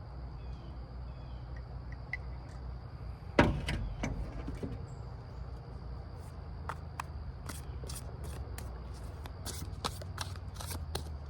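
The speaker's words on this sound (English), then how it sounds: "So now I'm gonna crack into the fucking tarot cards, see what you have to say" Tarot cards are shuffled at close range: a sharp riffle burst, then a run of soft, rhythmic slapping shuffles over a low steady background hum.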